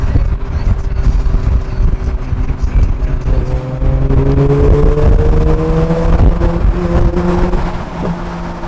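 A pack of stock Mazda RX8 cars drives past, their rotary engines forming a loud, continuous roar with rising and overlapping engine tones as several cars pass close by one after another.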